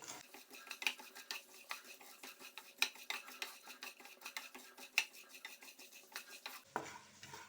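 Roasted gram (putani) is stirred in a pan: quiet, irregular scraping and clinking of the spoon against the metal, with soft rustling of the dry grains between strokes.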